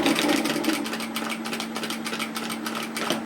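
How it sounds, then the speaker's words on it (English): A sewing machine stitches fabric while a dress is sewn up to the top edge, with a steady rapid mechanical whir and needle chatter running loud and continuous from start to finish. "I'm going to stitch all the way up to the top"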